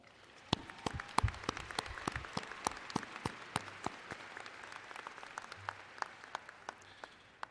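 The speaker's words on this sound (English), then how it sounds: "Students, let's give our faculty a round of applause." Scattered, sparse clapping from a commencement audience honoring faculty, individual claps distinct and somewhat distant, steady for several seconds without talk.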